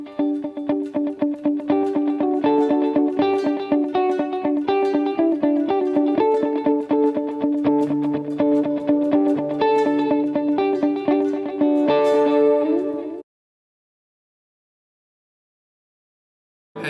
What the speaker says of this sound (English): The 7th, edgy delay, just what you think it is.